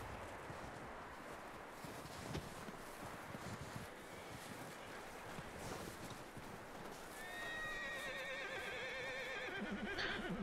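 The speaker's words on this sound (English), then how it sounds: "I can hear the horse." A horse whinnies in a wavering, descending neigh toward the end in the video game Red Dead Redemption 2, faint at first over a steady windy background.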